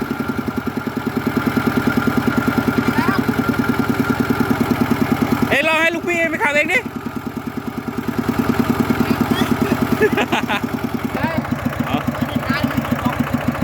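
A walk-behind tractor engine idles and chugs steadily throughout, towing a vehicle left parked for a year in overgrown grass, with a brief drop in its beat midway while people talk over it.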